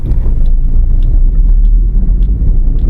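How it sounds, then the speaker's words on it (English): A 2009 Hyundai i10 pulls easily in second gear. The engine gives a deep, continuous rumble close to the microphone, with no voices. "The car is picking up easily in second gear, no problem."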